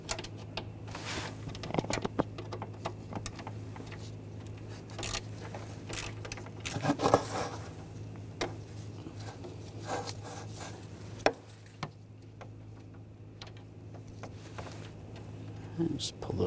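Faint scraping and ratcheting of a T30 socket loosening radiator screws on a Volkswagen Tiguan, with intermittent metallic clicks and a sharp clink near the end, under a steady low hum and occasional talk.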